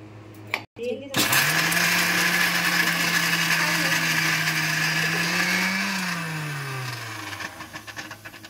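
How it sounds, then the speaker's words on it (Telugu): A kitchen mixer grinder whirs steadily for several seconds while lightly blending peanut and tomato chutney ingredients, starting abruptly after brief handling noises, loud and close, then slowing as it winds down. "ఇందులో ఫస్ట్ ఈ లైట్గా మిక్సీ పట్టాలి."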